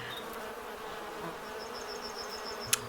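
Bees buzz in a Sherlock Holmes beekeeping video game, a faint continuous insect drone under a soft background hum, with a sharp click near the end.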